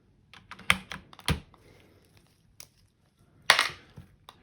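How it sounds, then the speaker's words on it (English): Keycaps being pried off a Corsair K70 LUX RGB mechanical keyboard, heard as a few sharp plastic clicks and snaps spaced irregularly with quiet gaps between, close and fairly crisp, no talking. "we'll start by removing all of the keys"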